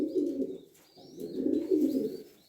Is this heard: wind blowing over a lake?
no